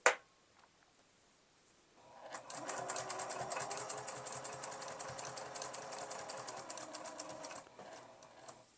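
A sewing machine runs steadily, stitching a fabric scrap bookmark. A sharp thump comes first, then a pause, then several seconds of continuous rapid mechanical whirring and ticking close by before it stops.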